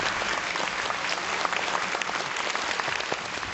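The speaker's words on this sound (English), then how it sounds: "Let's welcome Lou Corona with a big round of applause" An audience at a book premiere welcomes a guest onstage with sustained, even applause from a large crowd, a thick wash of clapping that holds steady throughout.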